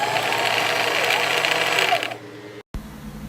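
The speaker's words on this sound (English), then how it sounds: "make sure you wrap it a few times just to keep it in place so it can hold itself while you press the pedal and it's winding up fast" A sewing machine runs fast and steady while winding thread onto a bobbin, a loud continuous whir lasting a couple of seconds before it stops abruptly.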